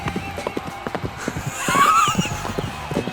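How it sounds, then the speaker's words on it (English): Racehorses gallop at the 1968 Kentucky Derby, hooves pounding the track in a rapid, irregular drumming, with a cheering crowd swelling in the background and a brief whinny near the middle. "Horses pounding the pathway."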